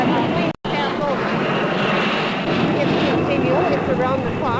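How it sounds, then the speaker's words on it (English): A loud, steady roar of a jet plane passing overhead near Boston Logan or Sea-Tac airport in 1976, filling the whole stretch with a broad rumbling drone and wind-like rush. "as the planes pass over."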